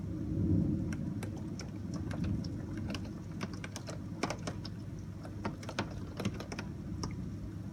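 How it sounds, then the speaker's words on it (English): Thunderstorm outside with steady rain and a low, distant rumble of thunder, overlaid by scattered sharp ticking clicks like keys or drops against a window, fairly faint and steady with no talk. "It's thunder and lightning out there."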